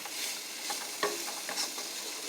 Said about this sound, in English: I'm sauteing the smoked sausage